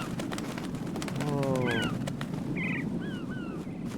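Birds in a video game give a run of honking calls and then higher squawks, fairly clear over a constant background hum, while a person reacts briefly.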